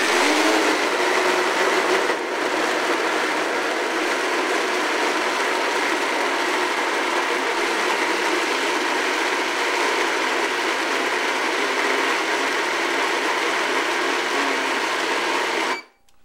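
A blender whirs steadily at high speed through a gelatinous batch of Irish moss, loud and continuous for about fifteen seconds before cutting off abruptly.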